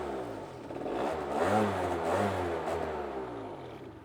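A scooter engine, ridden by a learner on a slow-speed course and left unused for a long time, revs up and down in a close, mid-pitched drone that rises, falls, and fades toward the end.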